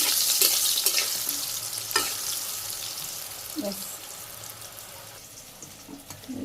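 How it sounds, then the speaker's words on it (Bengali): Eggplant frying in soybean oil in a village kitchen is stirred, bringing a sizzling hiss with scraping and clacking strokes that gradually soften, and a faint voice in the background. "বেগুনগুলো আমি আরেকবার নাড়া দিয়ে নিই বেগুন নাড়া দিতেছি"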